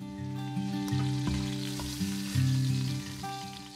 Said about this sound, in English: put the last 4 pieces of beef short ribs in and sear all sides about 2 to 3 minutes per side